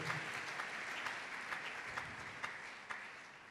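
A church congregation breaks into sustained applause during worship, a dense, steady wash of many hands clapping throughout with a few sharper individual claps standing out, no voices over it.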